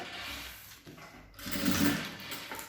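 A sewing machine backstitches while bias binding is being applied, with a short run of stitching, a brief pause, then a louder, steadier burst of motor whir close by.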